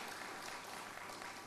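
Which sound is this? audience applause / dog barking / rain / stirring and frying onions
audience applause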